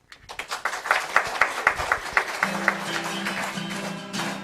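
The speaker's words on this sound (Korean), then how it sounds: "손악기로 박수 쳐가면서 같이 찬양하도록 하겠습니다" Children clap along to a praise song in a church service, using hand percussion instruments, steady rhythmic claps building from a quiet start into a lively group beat with a sustained tone underneath.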